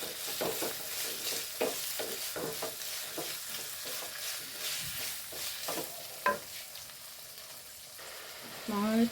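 Salted lemon pickle mixture for an Onam pickle is stirred in a frying pan: a steady oily sizzle broken by repeated scraping strokes of the spoon, close and fairly loud, with a brief louder clatter near the end.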